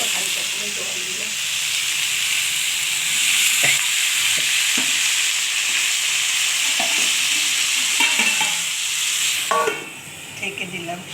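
Katwa-style note greens with potatoes and stalks, posto recipe, stirred in a pan with a little water: steady hissing sizzle with scraping spoon clicks throughout, louder bursts near the end.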